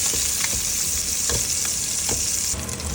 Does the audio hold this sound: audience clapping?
no